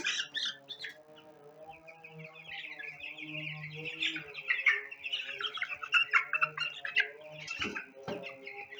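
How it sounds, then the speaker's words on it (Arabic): Broiler chicks about thirteen days old peep and chirp continuously at close range while being lifted onto a scale, their high calls overlapping in a busy, steady chatter. "نجيب اي فرخ، ادي فرخ اهو، نحطه على الميزان"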